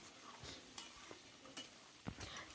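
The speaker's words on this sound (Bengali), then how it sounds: "চিকেনটাকে আরও একবার নাড়াচাড়া করে করে দিচ্ছি যাতে নিচে থেকে না লেগে যায়" Chicken stirred in a covered pan while it cooks down, faint sizzling frying under a few soft scraping strokes of a spoon against the pan, with no talk.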